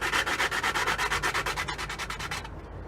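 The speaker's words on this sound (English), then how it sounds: "I'm gonna just try to sand all the sides and stuff." Rhythmic sandpaper scraping on a Mazda Miata side panel, about a dozen quick back-and-forth strokes, close and loud, slowing slightly before stopping.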